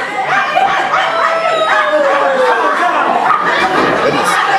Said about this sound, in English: Is that a dog down there going nuts? That's a dog.